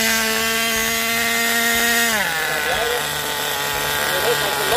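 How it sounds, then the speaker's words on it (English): A Tornado S30 nitro RC car engine is started with a glow igniter: a steady buzzing drone holds for about two seconds, then drops in pitch into a rougher, noisier running sound, loud and close. "So we're just gonna start, turn power on, open up the choke here."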